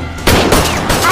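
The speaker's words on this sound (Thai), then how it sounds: "เสียงปืนดังอย่างนี้ทำไมนายมีคนยิงกันขนาดนี" Rapid bursts of gunfire in an action film crackle in quick succession, loud and close, with no pause between the shots.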